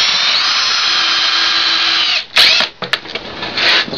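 A power drill whines steadily at high speed while countersinking holes in wood for a homemade router table, then cuts off into a few short bursts and stops.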